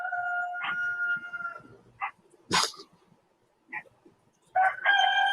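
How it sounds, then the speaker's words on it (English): A rooster crows with a long drawn-out call, followed by a sharp dog bark, brief clucks, and another crow starting near the end. "Big Red crows, and then Bob crows, and Junior crows"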